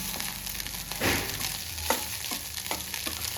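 Food sizzles steadily in a hot pan while a utensil stirs in coriander leaves, scraping in several distinct strokes, close up with no talking.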